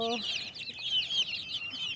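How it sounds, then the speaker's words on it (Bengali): Desi (native) chickens clucking and chirping close by, a quick run of short calls over quiet background. "এই যে আমার মুরগিগুলো"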